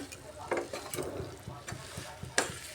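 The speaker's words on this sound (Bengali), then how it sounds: "বাঁধাকপি আলু সুন্দরভাবে কষিয়ে নিতে হবে সব মশলার সাথে মিশে যাবে" Cabbage and potatoes being stirred and sautéed with salt and spices in a pan, giving soft, irregular scraping stirs over a low, steady frying sizzle, with a few sharper clinks along the way.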